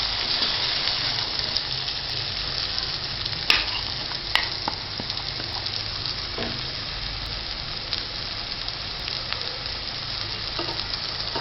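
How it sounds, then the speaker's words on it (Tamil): Beaten egg fries with softened tomatoes for Madurai-style kothu parotta, giving a loud, continuous sizzle with scattered crackles and occasional sharp spatula clicks throughout, and no one speaking. "நம்ம அடிச்சு வச்சுருக்கோம் பாருங்கள் முட்டை, அதை அப்படியே போட்டுரும்."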